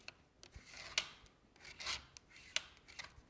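A scoring tool and burnisher work over cardstock in a few short, close rasping strokes and rubs, with brief quiet gaps between them.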